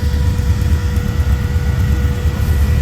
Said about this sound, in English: It sounds electric, but that's a V8.